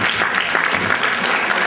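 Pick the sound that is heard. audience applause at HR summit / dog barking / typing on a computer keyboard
audience applause at HR summit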